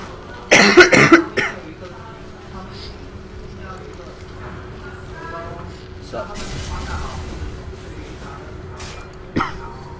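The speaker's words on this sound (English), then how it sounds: "Excuse me while I cough my lungs out." A man coughs hard several times in quick succession at a mic during a live Dota 2 esports qualifier cast, then clears his throat, with game sounds and crowd noise low in the background.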